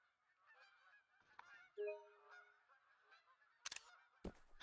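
A flock of snow geese in Hunter: Call of the Wild calls with repeated overlapping honks at middle distance, broken by a few sharp loud bursts.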